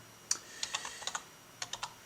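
Computer keyboard typing during a virtual production scouting webinar, a handful of sharp, separate key clicks in irregular bursts, close and moderately loud over a quiet background with no talking.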